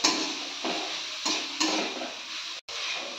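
Grated carrots frying and being stirred in a pan over a high gas flame, a steady close sizzle broken by a few scraping stirs and a brief dropout near the end.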